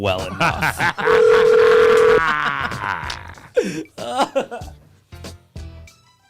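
A phone call's dial tone sounds as the call fails to go through, a steady electronic tone for about a second, surrounded by people talking and reacting close by.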